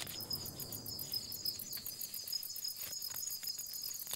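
A cricket chirps steadily in a night setting where a tarsier hunts, its high, fast, rhythmic trill continuing throughout at a moderate level with no voices.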